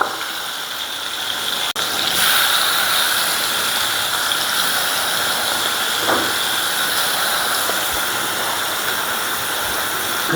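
Shrimp frying in oil in a pan, a steady broad sizzle and hiss lasting throughout, close and continuous with a faint clink or two.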